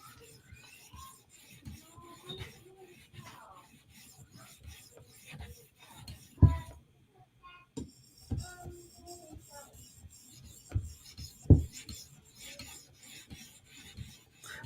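A Protech Mordax knife blade is drawn across an 800-grit stone on a TSProf Kadet sharpener, making soft, intermittent gritty rasping strokes with a few sharper clicks. The sound stays faint and close.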